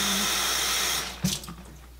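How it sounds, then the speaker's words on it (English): Tap water running into a container in a home kitchen for rinsing it out while making vegetable soup, a steady, close hissing flow that cuts off partway through, leaving brief clinks and drips. "I'll put some water in there so I can rinse out what's in the"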